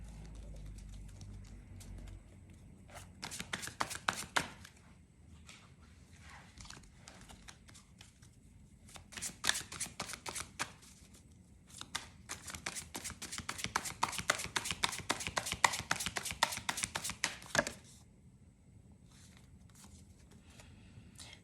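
Tarot cards are shuffled close up in rapid riffling bursts, three runs of quick crisp flutters separated by quiet pauses, with no voices.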